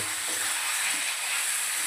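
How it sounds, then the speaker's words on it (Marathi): Surmai fish pieces sizzle as they fry in a ginger garlic masala, giving a steady bright hiss that runs without a break over a short stretch and contains no talking. "छानपैकी याला आता मसाल्यामध्ये आपण परतून घेऊया।"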